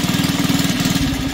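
Small engine of a Honda CT70 Dax copy motorbike idling with a new ignition fitted, a steady rapid low chugging pulse, loud and close, heard alone.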